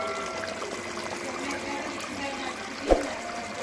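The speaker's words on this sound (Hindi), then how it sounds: "ये देखिए यहाँ पे पानी में उबाल आ गई है।" Water at a rolling boil in a pot for fish biryani rice, a steady bubbling and trickling hiss with one brief splash or clink, no talk.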